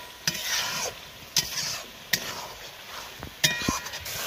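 Potatoes stir-fried with spices in a pan for rohu fish biryani, with a low sizzle broken by several sharp spatula scrapes and knocks against the pan, close and without talking.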